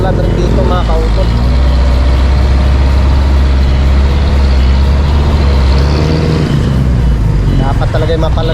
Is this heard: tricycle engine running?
yes